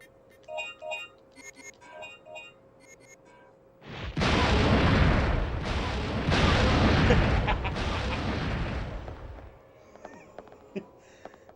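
A loud, sustained explosion in the video game Dino Crisis 2 rumbles for about five seconds, sudden in onset and fading out, with game music cues before and after.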